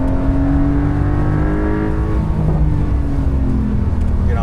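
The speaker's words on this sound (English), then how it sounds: "Very characterful engine" Porsche 992.2 Carrera T driven on a wet Angeles Crest Highway in the rain, its engine loud and close from inside the car, pulling steadily through rising revs for several seconds with no talk over it.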